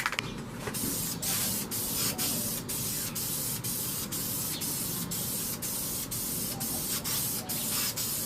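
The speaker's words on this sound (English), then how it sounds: "So I'm moving very quickly and spraying at the same time." Aerosol spray paint can hissing in long continuous bursts while painting a picture in yellow and brown tones, a steady loud spray broken by quick pauses.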